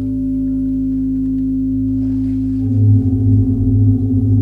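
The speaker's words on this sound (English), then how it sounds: "That's the sound of changing the delay time." A harmonic oscillator drone runs through a Verbos Electronics Multi Delay modular synth module, steady at first, then warbling and smearing as the delay time is changed partway through.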